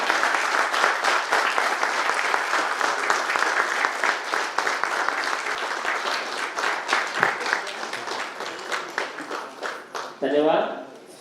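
Sustained standing applause from a large crowd at a retirement ceremony, steady and loud throughout, with dense clapping that thins into scattered claps near the end.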